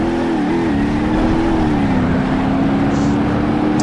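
Car in the driving game BeamNG runs flat out near top speed, its engine a loud, continuous droning whine that wavers slightly in pitch throughout.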